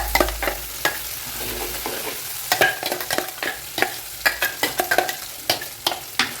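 Ground roasted masala paste is poured into a frying pan for egg kulambu and stirred, giving a close, soft sizzle broken by repeated sharp spoon scrapes and knocks against the pan in an uneven rhythm, with no voices.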